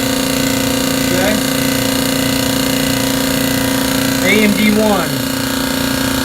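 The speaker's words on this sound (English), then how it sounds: "Tankless air compressor." A tankless air compressor runs at a fire sprinkler dry pipe valve setup, a steady loud mechanical drone throughout, with someone briefly speaking over it.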